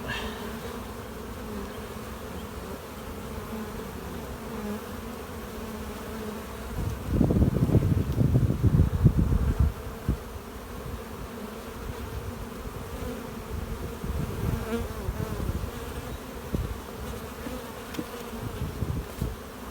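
Honey bees buzz steadily around an open hive during a brood frame inspection, a continuous drone with a louder, denser swell of wingbeats partway through as the frames are handled.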